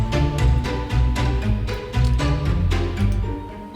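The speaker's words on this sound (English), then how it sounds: "Can you hear that bell ringing?" Orchestral music with a bright bell-like glockenspiel ringing over plucked pizzicato strings and a low bass line, moderately loud with rhythmic note onsets and no talking.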